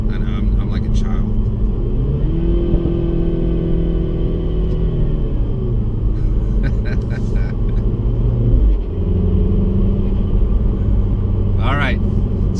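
A Mini Cooper S hatchback drives along, its engine a low, close rumble rising and dropping with gear shifts, with brief clicks and rattles from the cabin and speech heard over it.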